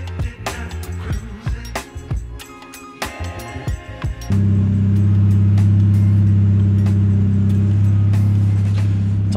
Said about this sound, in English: So now it's time for the Golf to do some pulls and stuff and figure a few things out.